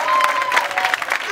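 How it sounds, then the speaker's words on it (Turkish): Audience clapping at a camp event, a short burst of dense applause that stays steady and fairly loud, with a bit of crowd noise mixed in. "Applause please."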